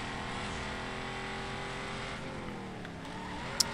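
Lotus Elise engine droning steadily in the racing game Need for Speed Most Wanted, with rising harmonic revs late on and a brief sharp click near the end, no talk.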